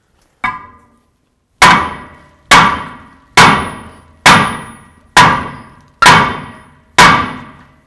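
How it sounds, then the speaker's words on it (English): Metal hammer blows ring out against the back side of a rear brake rotor on a 2017-or-later Ford F-350 dually truck: one lone strike, then seven loud, evenly spaced clanging hits, each decaying with a bright metallic ring. "So now I'm gonna bonk on the back side of the rotor"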